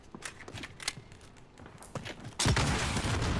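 Gunfire in Call of Duty Warzone, Modern Warfare Season 5: scattered distant shots and footsteps build to a dense, loud burst of fire in the last second.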